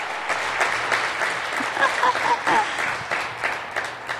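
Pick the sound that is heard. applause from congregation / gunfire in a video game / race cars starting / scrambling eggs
applause from congregation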